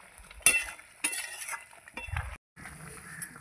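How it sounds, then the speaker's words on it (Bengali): Prawn malai curry being stirred in a pan, a few close scraping clinks of a spatula against metal over a soft sizzle, with no talking. "নেড়ে চেড়ে দিচ্ছি।"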